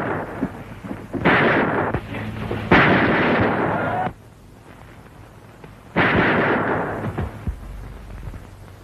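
Gunfire in a 1954 Brazilian western-comedy film: heavy, booming bursts of shots in three loud volleys, separated by quieter gaps with a low rumble, and no talking.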